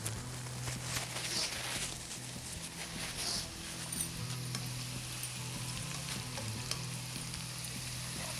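Onions fry and sizzle in a pan while being stirred, cooking for white biryani; a steady, close hiss of hot oil runs throughout with faint scraping of the stirring.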